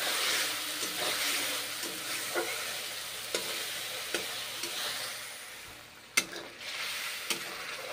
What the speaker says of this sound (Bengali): মশলা ধোয়া জল দিলাম সামান্য, কষে নিচ্ছি।